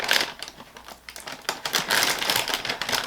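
A cereal bag, Birthday Cake Pebbles, is pulled open and crinkled, making continuous close, loud plastic rustling and crackling with brief pauses.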